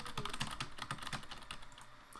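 Computer keyboard typing, rapid irregular keystrokes continuing steadily throughout, close and clear with no talking over it.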